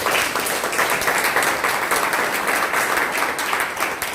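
A Pentecostal church congregation applauds loudly and continuously, many hands clapping in a sustained, fairly even burst that lasts about four seconds.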